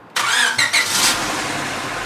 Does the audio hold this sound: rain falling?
no